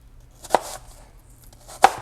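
A knife cutting apples into chunks for fritters, two sharp separate chops on a cutting board about a second apart, close and crisp against a quiet background.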